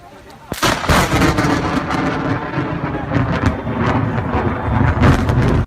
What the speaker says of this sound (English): And they also got to experience what snow lightning is like.